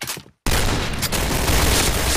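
SG550 rifle gunfire in the video game Point Blank, a loud, dense, continuous burst of automatic shots that starts abruptly after a brief silence and keeps going to the end.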